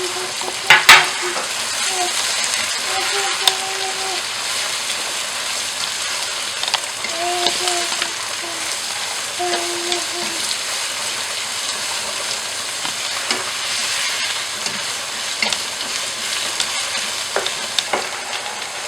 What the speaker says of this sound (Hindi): गाजर और शिमला मिर्च डाल देंगे और इनको भी चिकन के साथ फ्राई कर लेंगे।